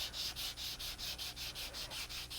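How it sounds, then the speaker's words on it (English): Steady back-and-forth rubbing of a sanding sponge on wood, about ten quick even strokes, soft and close. "take that sanding sponge and gently"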